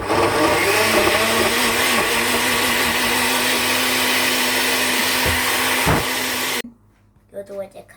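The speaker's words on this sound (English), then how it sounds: "Now we got this blender." A kitchen blender runs loud and steady for several seconds while a cake is being baked at home, then cuts off abruptly, leaving faint quiet sounds afterward.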